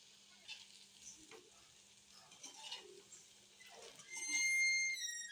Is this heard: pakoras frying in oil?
yes